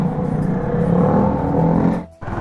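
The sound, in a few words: loud motorcycle with modified silencer exhaust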